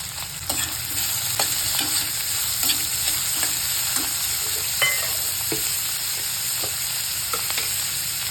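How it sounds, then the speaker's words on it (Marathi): Cumin, curry leaves, onion and chilli fry in a pan for an aubergine bharit, giving a steady, close sizzle with occasional spoon scrapes and taps. No one speaks. "जिरे टाकायचे कढीपत्ता टाकायचा आणि कांदा फिरलेला आहे ना तो टाकायचा कांदा आणि मिरची"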